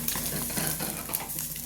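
A half-fry egg frying in a home kitchen pan, giving a steady close crackling sizzle with faint stirring and clatter throughout, no talk over it.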